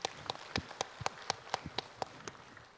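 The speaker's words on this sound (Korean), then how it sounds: "하나님께 영광의 박수드립니다." A church congregation claps during a Sunday worship service, a dozen or so sharp, evenly spaced claps heard fairly clearly, fading slightly toward the end with no talking.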